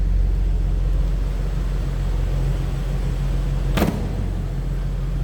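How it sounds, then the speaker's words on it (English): A 2005 Jeep Wrangler 4x4's 4-liter inline six idles with a steady, even low rumble throughout, with one brief sharp click or tap near the end and no talk. "this one sounds about like any other 4-liter I've heard, and again, that's that tried and true inline 6"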